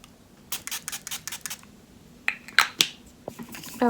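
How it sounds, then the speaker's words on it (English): Ciate coconut setting spray misted onto the face, a series of short sharp pump-spray bursts in two quick clusters, close and fairly quiet with no talking. "I am going to set my face now with my 2 setting sprays."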